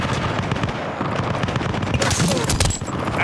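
A burst of sustained automatic gunfire in the Battlefield: Bad Company shooter game, rapid and loud, with cracking shots and a brief heavier blast near the end, and a voice shouting underneath.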